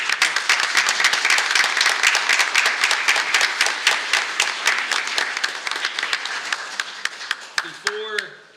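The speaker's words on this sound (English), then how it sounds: "Big round of applause." A meeting audience applauds a local barbecue restaurant receiving a Business of the Month award at a commission meeting: dense, steady clapping that thins to scattered claps near the end, followed by a brief voice.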